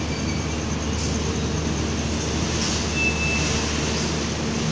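Aboard the Singasari passenger train in Indonesia, a steady low rumble of the carriage rolling on rails fills the space, continuous and even with no voices.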